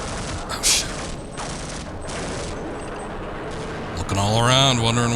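Sustained rapid gunfire in Half-Life: Opposing Force, dense and loud throughout, with a brief harsh burst near the start and a tonal, voice-like game sound rising over the shooting at the end.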